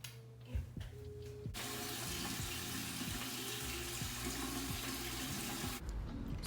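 Tap water running steadily into a bathroom sink while someone washes their face, a loud continuous splashing rush that starts abruptly and stops after about four seconds, with faint handling knocks before and after.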